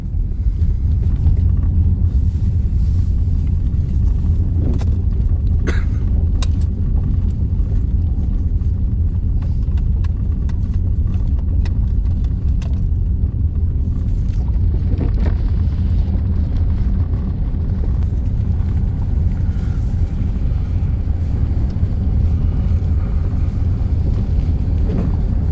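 A car drives over a bumpy gravel road during an ice storm, giving a steady loud low rumble with rattling and scattered knocks and jolts throughout, constant and close.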